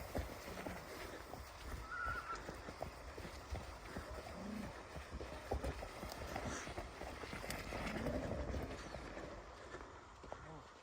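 Faint hoofbeats of a mare clop along outdoors in Ukraine amid rustling and wind, with people talking quietly throughout.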